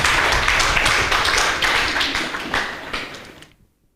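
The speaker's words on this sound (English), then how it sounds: "So let's give another round of applause" Audience applause for a panel at a university business symposium: brisk clapping from a modest crowd, tapering off and stopping abruptly near the end.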